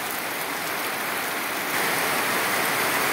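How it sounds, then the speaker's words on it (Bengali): Heavy rain pours down outdoors near a pigeon coop, a dense, continuous hiss that stays loud and even throughout and swells slightly toward the end, with no voices. "বৃষ্টি যেভাবে পড়তেছে, অনেক বৃষ্টি"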